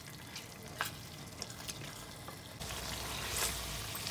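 Shinwari beef karahi fries in its released oil while being stirred, a faint, steady sizzle with occasional utensil taps, growing slightly louder near the end, no talking.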